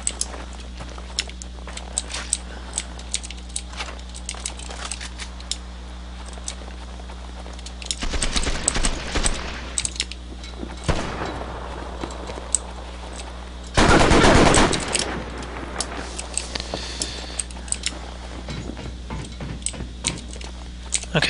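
A stolen sniper weapon fires in a Ravaged video game match: a steady run of crisp clicking shots, with two louder, denser volleys of gunfire standing out midway and no talking over them.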